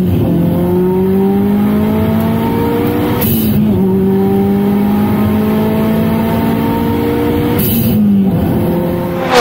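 A 345-horsepower sports car engine revs hard through short gears, loud and close, its pitch climbing steadily then dropping at two quick shifts before rising again.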